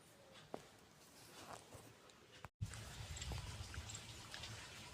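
Irrigation water trickles and flows faintly and continuously into a chickpea field outdoors, a soft, steady wash that grows a little fuller after a brief cut.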